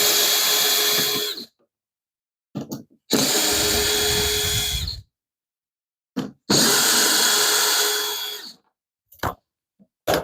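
Power drill removing screws from the cover of a DeWalt DW735 planer, three long whirring bursts separated by silences and short clicks, close and loud.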